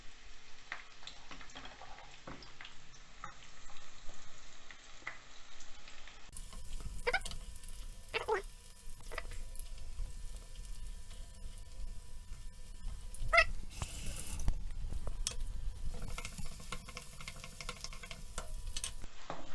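Garlic and onion hit a hot pan and start a soft, steady sizzle that swells partway through, with a few utensil clinks and scrapes against quiet background noise.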